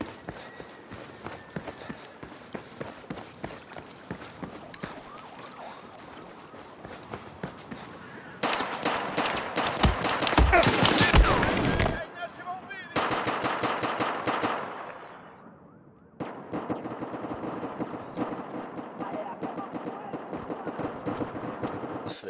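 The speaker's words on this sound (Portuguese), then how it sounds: "Acho que tem tiro lá do outro lado já" Bursts of automatic gunfire in Battlefield 4, a dense, loud volley peaking midway amid scattered shots, running footsteps and other game noise, with occasional talk.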